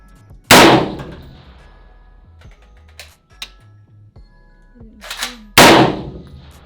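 Two loud rifle shots from a Spikes Tactical DMR at a 500-yard range, spaced about five seconds apart, with faint clicks and handling sounds between them.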